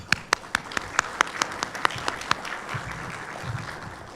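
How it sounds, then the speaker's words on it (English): A small audience claps at a public-university funding event, a thin run of distinct, evenly spaced hand claps that fades quickly, with murmuring voices underneath toward the end. "Let's give them a round of applause"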